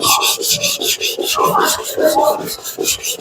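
A kitchen knife, a 250mm Takeda NAS gyuto, drawn by hand across a 220 grit whetstone in quick, steady back-and-forth rasping strokes, close and dry, about four strokes per second with no talk.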